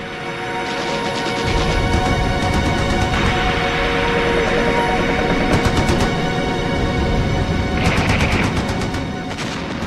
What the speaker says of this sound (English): The English then blasted the banks with machine gun fire